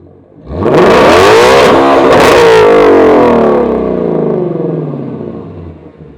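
Ford Shelby GT350 with an X-pipe and resonator delete revs hard to 8,000 RPM, a loud, close, rising engine howl that holds near the top before easing off as the revs drop away.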